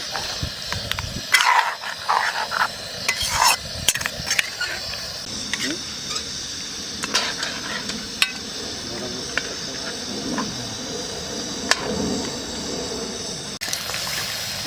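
Mutton stirred and fried in a hot kadai outdoors: continuous sizzling hiss broken by sharp scraping and clanking strokes of the ladle, close up, with occasional speech.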